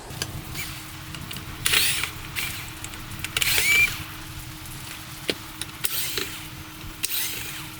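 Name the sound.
removing Phillips screws from Toyota Highlander radio trim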